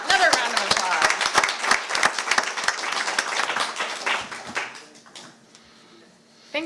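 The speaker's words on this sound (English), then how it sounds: "Another round of applause." A round of applause at a water district board of directors meeting: a small room of distinct, closely spaced claps that thin out and die away, leaving quiet with faint voices.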